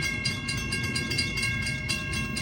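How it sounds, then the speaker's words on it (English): Amtrak Capitol Corridor passenger train 724, headed to Sacramento, passes the 105th Avenue crossing in Oakland: a steady loud rumble with rhythmic wheel clatter and a faint tonal ring from the rails or crossing, heard close with no talk. "Here comes Amtrak Capital Corridor Train 724."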